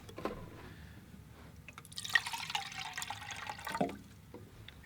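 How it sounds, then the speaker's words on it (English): Fresh water poured into a container for watercolor painting, a short trickling splash at close range in a quiet room, with a few faint clinks before it. "I'll maybe get some fresh water here."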